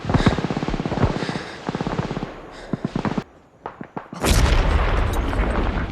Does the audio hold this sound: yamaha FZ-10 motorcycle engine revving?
no